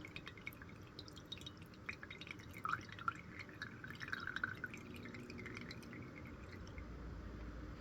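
Water from a bulb syringe flushes through a fountain pen with a double slit ebonite feed, giving a steady run of small drips and trickles, fairly faint and close, with no talking.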